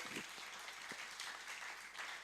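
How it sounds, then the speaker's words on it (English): Faint, distant applause from a conference audience honoring the panelists at a student congress, a steady soft wash of many hands clapping throughout. "let's give a big round of applause to all our panelists"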